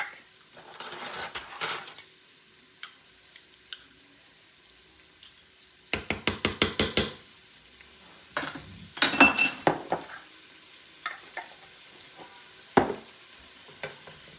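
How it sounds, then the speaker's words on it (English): Peppers, onions and minced garlic frying in a pot for Cajun pasta: soft sizzle under bursts of clattering utensil stirs, including a quick run of rhythmic scraping taps, close and moderately loud, no talking. "I want to cook this until those peppers start to get tender and the onions are translucent"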